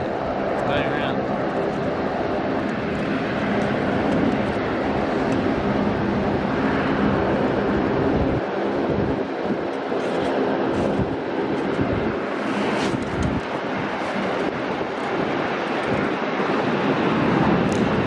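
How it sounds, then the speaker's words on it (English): A Qantas Boeing 737 going around at Sydney Airport gives a steady, broad jet roar from a distance, swelling slightly midway, with people talking over it and some wind buffeting the microphone. "it's a Qantas 737. Yeah, it's going around."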